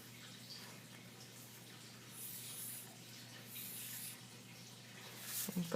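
A marker or pen draws spindle fibers on a paper foldable, making soft rubbing strokes over a low steady hum, close and quiet, with a few louder scratches near the end.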